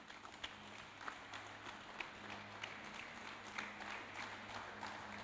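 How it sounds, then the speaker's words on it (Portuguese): A church congregation claps during a Sunday worship service, a soft, scattered patter of hands over a steady low hum, somewhat distant and quiet. "Palmas para Jesus."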